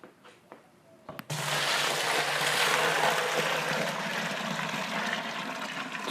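After a couple of faint clicks, a steady rush of hot strike water pours loudly and continuously into a mash tun while brewing a red ale, close by, with no talking.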